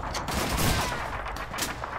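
Rapid automatic gunfire from an MP40 submachine gun in Call of Duty, a dense burst of shots lasting about two seconds with sharp repeated cracks.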